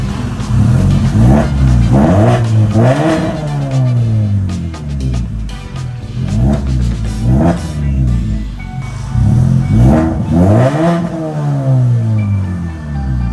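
A Mazda 2 with a Skyactiv engine, freshly serviced with a new air filter, revs repeatedly on a test drive, the engine note rising and falling in several loud, close surges with no talk.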